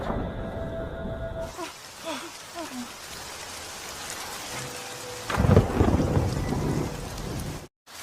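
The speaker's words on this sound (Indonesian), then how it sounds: "Terlihat petir menyambar dan langit mulai mendung." A thunderstorm in the Korean zombie drama All of Us Are Dead: steady heavy rain with a sharp thunder crack, then a louder rumbling roll of thunder near the end.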